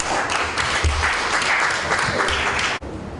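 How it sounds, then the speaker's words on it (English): An audience at an annual HR congress gives a sustained round of applause, a dense wash of clapping that holds steady and then cuts off abruptly near the end. "and your applause"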